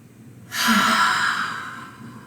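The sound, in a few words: yawn during a morning stretch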